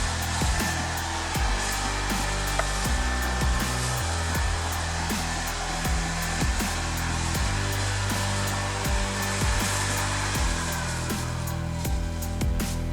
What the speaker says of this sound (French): Donc l'avantage de cette machine, c'est qu'en fait elle crée un brouillard vraiment bien homogène.